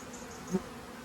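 Honey bees buzz at a hive during robbing, a dense, steady swarm drone close by, with one bee passing nearer and briefly louder.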